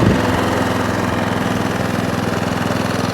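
A petrol lawn mower engine idles steadily up close, a continuous low, even rumble that keeps its pitch and loudness throughout with no voices over it.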